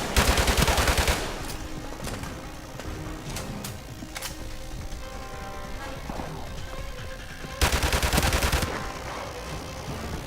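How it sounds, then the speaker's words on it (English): Bursts of G3 rifle fire in Call of Duty: Modern Warfare Remastered, with rapid loud shots at the start and again near the end and game ambience in between. "G3 it is, because the G3 is my favorite gun in this game."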